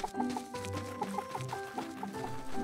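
Three chickens in the Staxel video game cluck softly in short repeated bursts, a steady low-level farmyard chatter with no voices over it.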